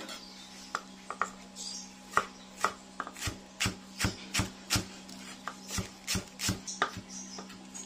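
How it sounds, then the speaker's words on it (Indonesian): Spring onions chopped small with a knife on a board, a steady series of about sixteen crisp, close knocks that grow regular and slightly louder toward the end, with no talk. "Kita potong kecil-kecil atau kita iris kecil-kecil ya."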